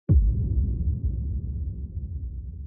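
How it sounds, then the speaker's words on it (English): Low, booming impact hit from an Ableton music production, a sudden deep thud at the start trailing into a long, rumbling reverb tail that fills the rest of the clip without fading out. "And then I have a low impact here."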